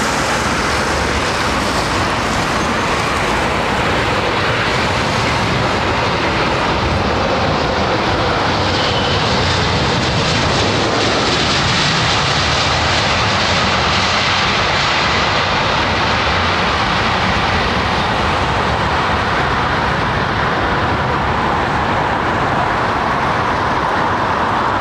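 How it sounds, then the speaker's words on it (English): An airliner lands on runway 27R at London Heathrow, a loud, continuous roar of engines and rushing air that swells and rolls on for the full length, with distant traffic beneath. "Jez White, a lot of aero braking today"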